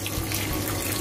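Cold tap water running steadily into a sink while beetroot is washed, a close, continuous splashing hiss with no voices.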